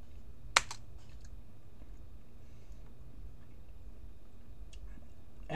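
A few soft, faint key taps on a computer keyboard as a password is entered, with one sharper click near the start amid quiet room noise.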